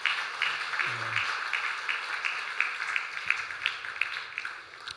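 A church congregation at a Sunday service in Samcheok clapping for a young man who enlists tomorrow, giving soft, steady applause from a distance that holds for several seconds and slowly fades, with a brief low voice near the start.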